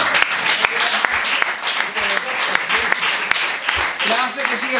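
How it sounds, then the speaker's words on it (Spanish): Applause from a small crowd at a book presentation for a music fanzine, dense clapping across the whole stretch with a voice and some whoops cutting through near the end. "Un aplauso para vosotros."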